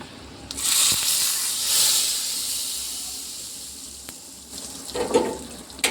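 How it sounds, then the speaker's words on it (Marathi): Hot oil tempering with dried red chili poured over spinach curry, giving a sudden loud hiss and steamy sizzle that slowly fades, followed by a few bubbling splutters near the end. "तर चला आता आपण तडका देऊन देऊ भाजीला"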